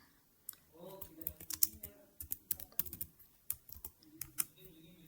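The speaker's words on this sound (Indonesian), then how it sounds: "Jadi di sini kita ketik selamat tinggal." Rapid typing on a computer keyboard, with dense, uneven clicks close by and a few sharper key strikes, while someone speaks softly underneath.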